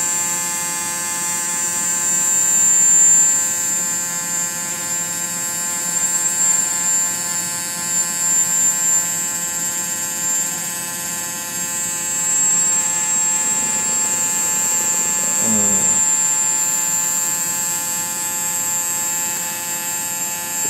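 MagSpinner pulse motor running at around 10,800 RPM, giving off a steady high-pitched electrical whine with a constant buzzing hum underneath, close and unchanging throughout.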